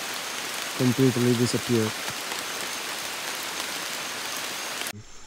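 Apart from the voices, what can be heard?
rain falling in the Amazon rainforest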